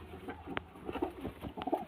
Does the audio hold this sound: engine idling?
no